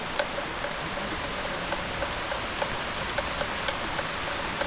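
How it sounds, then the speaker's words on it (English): Heavy monsoon rain on Bohol Island in the Philippines, a loud, dense, even downpour with scattered distinct drips tapping close by, no talking. "So now we're sheltering and waiting till the big rain is over"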